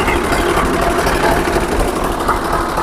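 A Swaraj 735 FE tractor engine runs steadily at close range, giving a continuous, dense rumble with an even mechanical beat throughout and no pauses.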